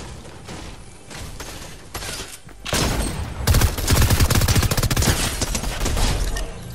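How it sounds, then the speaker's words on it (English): Rapid gunfire erupts in a Fortnite match: scattered shots at first, then dense, loud bursts of automatic fire crackling continuously over the last few seconds. "What are you even shooting at?"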